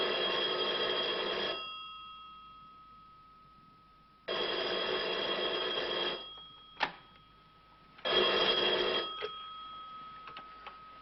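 A telephone bell rings in three long bursts separated by quiet gaps. Each bright, steady ring sounds close and clear.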